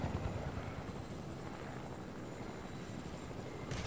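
A helicopter in the Fortnite video game flies low, its dense rotor thrum running steadily throughout with no talking.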